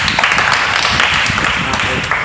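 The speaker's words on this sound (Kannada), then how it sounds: "ಚಪ್ಪಾಳೆ." Spectators clap at a local kabaddi match, with brief bursts of scattered hand claps amid crowd noise, loud and close.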